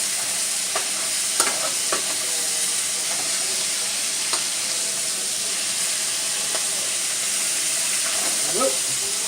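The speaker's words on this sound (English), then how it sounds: "Now I'm frying up my andouille sausage in with my chicken, guys." Andouille sausage frying together with frozen chicken pieces in a pot for Louisiana chicken gumbo, a steady low sizzle and hiss with occasional stirring scrapes and clinks.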